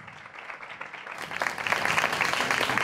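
Applause from an audience at a gala final show swells after a moment into steady, dense clapping that fills the room.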